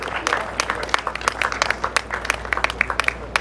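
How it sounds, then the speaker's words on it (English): Dense, steady applause from an audience at a chairperson investiture ceremony, many hands clapping close together in a continuous patter throughout. "Please another round of applause for QS Ria Patterson."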